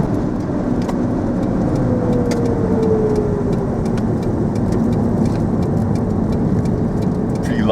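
A Toyota Camry taxi pulls away slowly, its engine giving a steady loud rumble with a faint rising tone as it gains speed, accompanied by constant wind and road noise.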